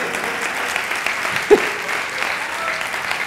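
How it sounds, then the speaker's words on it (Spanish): A church congregation claps together during a Spanish-language sermon, a brief steady burst of applause from a room of people with one sharper nearby clap standing out in the middle. "Un aplauso al rey."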